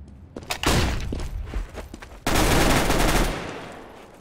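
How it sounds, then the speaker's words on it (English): Gunfire and a flashbang blast in the shooter game Counter-Strike: Global Offensive: rapid loud shots early, then a sudden broadband burst that holds for about a second before fading. "Throwing a flashbang!"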